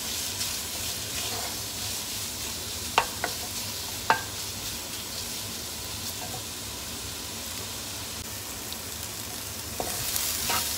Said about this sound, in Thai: เห็ดหอมก็ใส่ลงไปค่ะผัดรวมกันให้มีกลิ่นหอมนะคะ